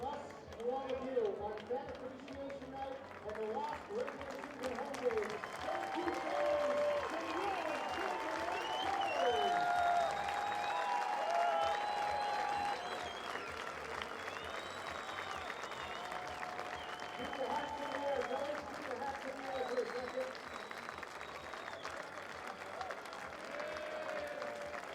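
Baseball crowd at a Sylvan Lake Gulls game applauding and cheering steadily for the team, a broad sustained wash of clapping with voices mixed in, loud and continuous throughout.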